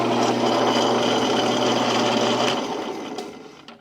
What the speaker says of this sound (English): we are now powering the strip sander. Currently that's running at 875 RPM.